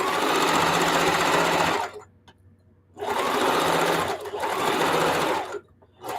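A sewing machine stitching quilted jellyroll placemats, fast loud mechanical whirring in long bursts with brief pauses between runs, close by, with someone talking.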